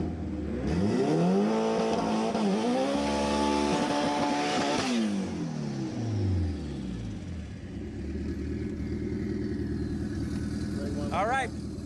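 A Honda Del Sol race car accelerating down a drag strip, its engine revving loudly and rising in pitch through gear changes, with crowd and announcer noise mixed in.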